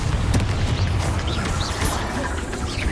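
A Confringo spell blast in the video game Hogwarts Legacy: a heavy booming impact at the start followed by crackling bursts and fizzing sparkle as the effect carries on, dense game sound throughout.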